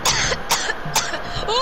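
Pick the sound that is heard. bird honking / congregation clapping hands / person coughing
person coughing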